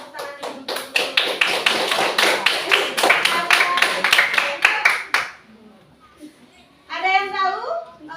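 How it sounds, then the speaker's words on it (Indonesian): A classroom group claps hands for a teacher in a lesson on the digestive system: about five seconds of loud, close, rhythmic unison claps, then a pause and a voice speaking briefly. "Pintar sekali, tepuk tangan ibu dulu."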